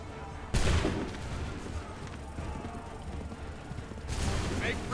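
Muskets fire in a volley in Assassin's Creed 3: a sharp, loud crack of combined shots, then a rumbling din, and a second volley bursts out near the end.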